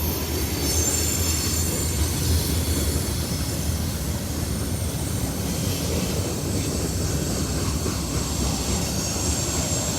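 Two CSX freight trains meet at the north end of a siding in Kelly, Kentucky, on a hot summer day: a loud, continuous rumble of rolling railcars with faint wheel squeal, heard up close throughout.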